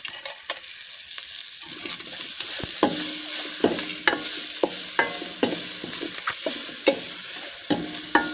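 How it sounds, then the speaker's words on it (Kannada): Green beans with ginger-garlic paste, rock salt and tomato fry in a pan for a beans palya, giving a steady sizzle broken by a dozen or so sharp scraping stirs of a spatula at a fairly regular pace, close and loud. "ಇವಾಗ ಇದನ್ನು ಟೊಮೆಟೊ ಮೆತ್ತಗಾಗುವವರೆಗೆ ನಾವು ಇದೇ ರೀತಿ ಬೇಯಿಸಿಕೊಳ್ಬೇಕು"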